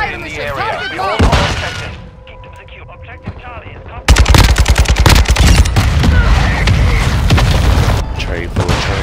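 Gunfire in the shooter game Modern Warfare 2 on a crowded multiplayer map: loud, dense automatic bursts and booms that grow into sustained heavy fire, with a game announcer's voice speaking early on.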